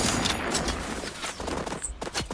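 Bursts of rapid gunfire from The Outer Worlds 2, dense crackling shots layered over game noise, loud and continuous across a brief stretch.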